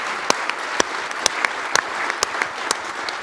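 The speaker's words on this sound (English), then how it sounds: "So give them another round of applause." Audience at a government showcase claps after presentations and product demonstrations, a moderate round of applause with scattered loud individual claps punctuating a softer steady patter.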